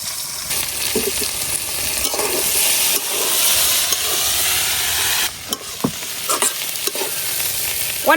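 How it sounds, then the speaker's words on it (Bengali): Sliced bitter gourd sizzles loudly in a hot pan, with a dense steady hiss, brief gaps and scraping stirs from a utensil throughout. "তো আমার উচ্ছে ভাজি হয়ে গেছে, উড়াই নিতেছি।"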